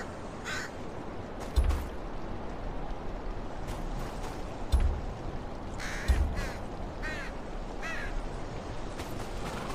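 Several crows caw in the Game of Thrones: Kingsroad video game, harsh calls breaking out in scattered clusters over a steady, dense ambient bed, with low thumps now and then and no speech.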